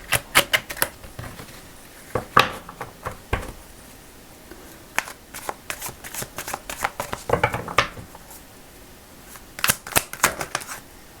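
Tarot cards are shuffled, drawn and laid down by hand for a romantic reading, giving close, irregular bursts of crisp riffling and slapping clicks separated by brief quiet pauses.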